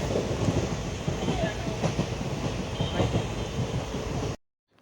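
A passenger train carriage rattles and rumbles steadily on the ride to Hassan, with a continuous clattering roar that cuts off abruptly near the end.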